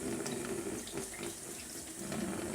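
Tap water runs steadily into a sink while gouache paint is washed off paper in a wash-off resist technique, a constant close hiss and splash with no talk.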